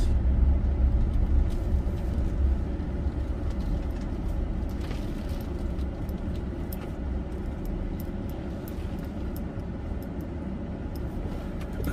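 Traffic rolling by in a small West Texas town, a continuous low rumble of passing cars at moderate distance with no clear gaps, steady and fairly loud throughout.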